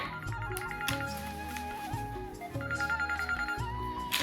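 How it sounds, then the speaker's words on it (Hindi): A phone ringtone plays a repeating electronic melody at moderate volume, looping steadily throughout with no talking. "फोन आया रे, किसका है ये?"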